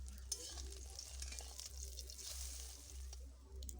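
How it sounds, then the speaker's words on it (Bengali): Egg frying in a pan, heard as a soft, continuous sizzle with faint stirring, quiet and steady throughout, with a low hum underneath. "এবারে আমি ডিমটা ভেজে নেব।"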